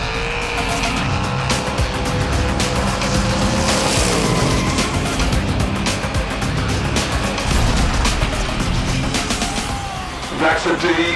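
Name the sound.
Hot Wheels diecast cars racing down a track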